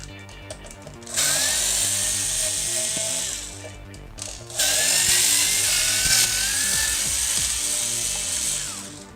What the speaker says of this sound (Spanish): Ahora vamos a quitar el resto de tornillos.